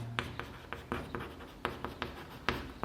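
A pen scratches across paper as a line is drawn, giving a quiet series of short, crisp strokes and taps spaced irregularly, close and alone.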